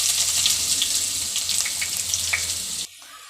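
Chopped onions drop into hot coconut oil with fenugreek for a Kerala sardine curry, giving a steady loud sizzle and crackle that runs continuously for about three seconds and then cuts off.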